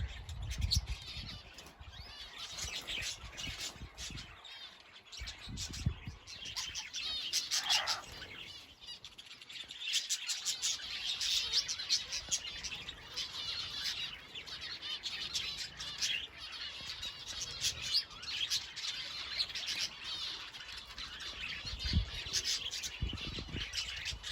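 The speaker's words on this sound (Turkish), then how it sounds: "hemen hemen her şeyi yapabilen kuşlar şu anda büyük bir kısmı bahçede geziyorlar." Many birds, including Indian bulbuls, chirp and tweet steadily while roaming around a garden outside their coop, with occasional wing flutters and dense overlapping calls.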